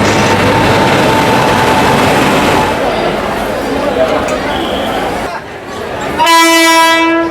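The Sairang Express, bound from Kolkata to Mizoram, rumbles into platform 2 with a loud, continuous roar that eases off. It ends in a sharp, sustained horn blast, close and prominent.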